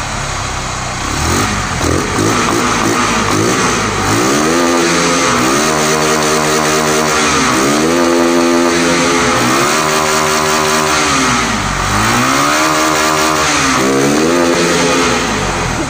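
A stock fuel-injected motorcycle engine is revved hard, its pitch repeatedly surging up and dropping back in quick cycles as if bouncing off the rev limiter. It is loud and close, with no talking.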